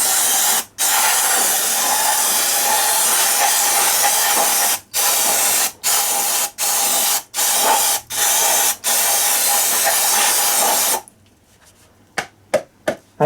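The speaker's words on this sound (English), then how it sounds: "I'm going to get my brake cleaner out." Brake cleaner sprays from an aerosol can onto a starter motor yoke in long, loud hissing bursts separated by brief pauses, then a few short clicks and quick spurts at the end.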